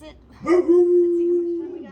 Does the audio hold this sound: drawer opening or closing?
no